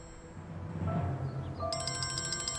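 A telephone begins ringing partway through in an indoor scene, a bright, evenly pulsing electronic tone that continues to the end over soft background rustle.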